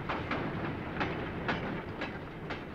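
A Tyne and Wear Metro train runs along a converted freight line, with wheels clicking over rail joints in a steady, evenly spaced rhythm under a continuous rolling rumble, heard alone at moderate distance.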